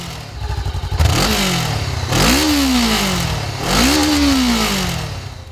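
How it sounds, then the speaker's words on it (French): A Honda CBR 500R sport motorcycle's exhaust revs up close and loud, giving three rising, swooping throttle blips that climb and fall in pitch over a steady engine growl, with no voices. "La sonorité de l'échappement, si plaisante, rend tout trajet moins monotone"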